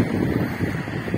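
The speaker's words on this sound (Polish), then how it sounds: "będę mówił głośno, bo jest wiatr. Staram się przekrzyczeć wiatr." Gusty wind buffets a microphone on Puławska Street near Mysiadło, a loud, rumbling low roar pulsing in uneven bursts.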